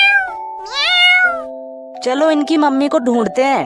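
Cartoon kittens in an animated children's story meow in a series of high, wavering cries, one early and then several rapid overlapping ones, with a voice speaking over them.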